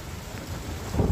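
Heavy monsoon rain in Mendarda, Junagadh, Gujarat makes a dense, steady roar with a low rumbling undertone that swells louder near the end of the short stretch.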